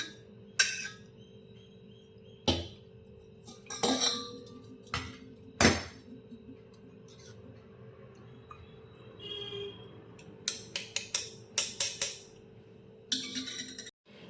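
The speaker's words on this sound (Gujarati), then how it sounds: "तो आ रीते गरણીમાં પાનને પણ આપણે અંદર લઈ અને ચમચીથી પ્રેસ કરી અને બધું જ પાણી આપણે કાઢી લઈશું" A spoon presses boiled Malabar nut leaves against a metal strainer to squeeze out the herbal decoction, giving scattered sharp metallic clinks and scrapes in short bursts, close up, with quiet gaps between.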